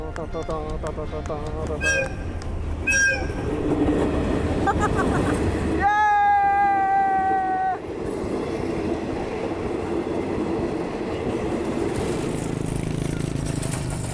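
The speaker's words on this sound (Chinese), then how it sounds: "哦，火车来了。" A train rumbles past close by in Chaiya district, Surat Thani, southern Thailand, with a loud steady roar and a sharp whistle-like squeal in the middle, while people talk over it.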